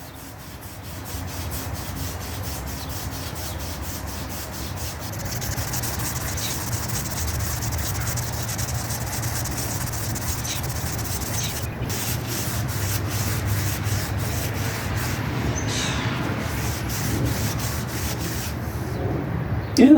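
Steel wool and Brasso scrubbed against rusty wheels of a 1975 Yamaha 175 barn-find motorcycle, giving a continuous rough abrasive rasp with repeated back-and-forth strokes, close up and steady for the whole stretch.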